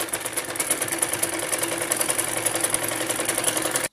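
A sewing machine runs continuously while stitching a double seam on a fancy gown, giving a rapid, even mechanical chatter close to the microphone with no talking over it.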